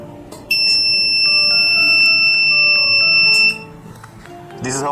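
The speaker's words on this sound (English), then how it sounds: "when a person enters at the doorstep, automatically the bell rings" A door monitor alarm bell, set off by a doorway sensor on a small circuit, rings with a loud, steady electronic tone for about three seconds, then cuts off abruptly.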